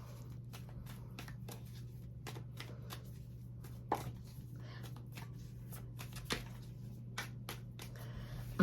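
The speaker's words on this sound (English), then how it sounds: "Let me pull a few cards. Of course, the cards are flying around like crazy." Tarot cards being shuffled and pulled, a quiet series of dry flicks and riffling snaps spaced irregularly over a steady low hum, with a few sharper slaps.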